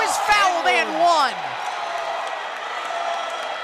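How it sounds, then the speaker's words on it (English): A crowd in a high school basketball gym reacts loudly against a referee's call, a swelling roar of voices and whoops that fades into sustained murmur, with a commentator talking over it. "As I'm sure you guys can hear, the crowd definitely disagrees with the call."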